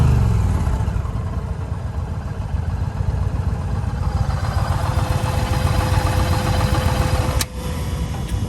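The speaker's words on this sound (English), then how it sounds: "even when it's idling, let's see if I can capture some of that." An Indian motorcycle engine idles close by with a steady, low, pulsing rumble and light mechanical clatter, holding even for several seconds, with a brief dip near the end.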